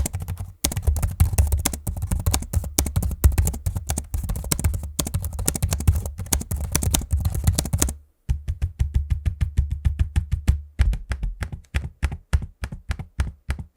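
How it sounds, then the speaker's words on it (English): Rapid close-up keystrokes rattle on an Asus E410 laptop keyboard in a dense irregular stream, then give way to slower, evenly spaced clicks from its trackpad. "here's a quick audio sample of me using the keyboard and trackpad so you can hear what that sounds like in use"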